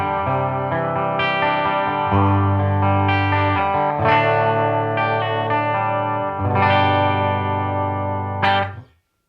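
A custom-built Phoenix Rising electric guitar plays through a clean amp tone on its third voicing: several ringing strummed chords, each left to sustain before the next, ending in a quick fade to silence.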